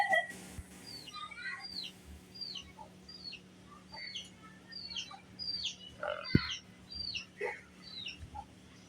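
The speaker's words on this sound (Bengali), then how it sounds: "এটা হচ্ছে ভাই আমার মুরগি।" Three chickens cluck and make short calls in scattered bursts, near and moderately loud against a quiet background, with no voices.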